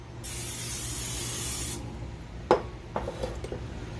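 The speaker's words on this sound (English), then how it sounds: "olive oil cooking spray" A short burst of olive oil cooking spray hisses steadily for about a second and a half, followed by a few light clatters and handling knocks.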